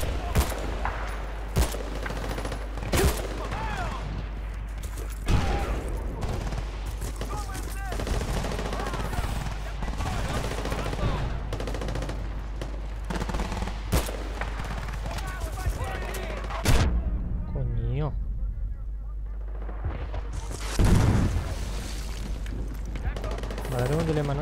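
Battlefield Bad Company 2 firefight: repeated sharp gunshots and bursts of automatic fire cracking out over a steady low rumble, some shots loud and close, with someone talking intermittently over the combat.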